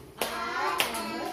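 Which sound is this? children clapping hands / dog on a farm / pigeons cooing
children clapping hands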